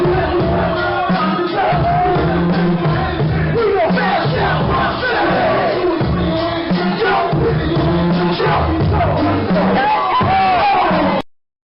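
A packed club crowd cheers, whoops and yells at a live rap performance, with dense, loud hubbub and shouting voices running continuously for about eleven seconds before cutting off abruptly.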